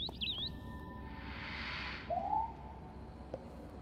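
A mother bird calls in the video game Tiny Echo, with a short high chirp at the start and a lower, rising whistled call a couple of seconds later over a soft ambient game background.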